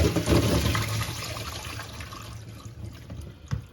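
Water drains from black olives poured into a colander, a rushing, gurgling flow that is strongest at first and gradually thins to a trickle, with a small knock near the end.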